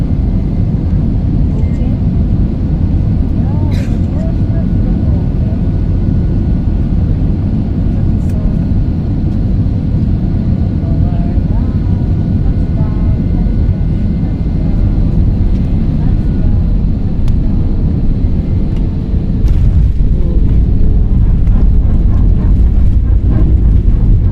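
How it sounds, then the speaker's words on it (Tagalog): Airplane cabin during descent into Tacloban Airport, a loud, steady low engine roar filling the whole stretch, with muffled talking in the cabin. "bumababa na yung eroplano"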